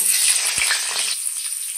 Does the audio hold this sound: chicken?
no